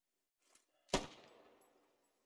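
A single loud gunshot cracks out in the military video game Squad Ops, with a long echoing tail rolling away after the sharp report and a small earlier click.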